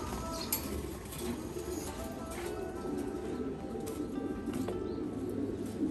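Pigeons coo softly and steadily in a loft, a low continuous murmur with occasional chirps and faint wing flutters, no clear voices.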